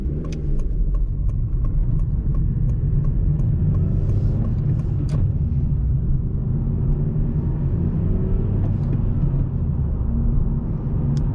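Steady low rumble of a 2006 Honda Civic underway, engine drone blended with constant tire and road noise, with occasional faint clicks and ticks inside the cabin.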